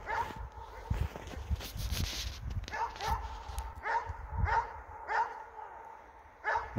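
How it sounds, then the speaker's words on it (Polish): Dogs in winter snow, a big neighbour's dog and a small one, bark and yip repeatedly at moderate distance, with a rhythmic run of barks toward the end over soft outdoor background noise. "A tutaj duży pies od sąsiada i nasz Jacky maleństwo."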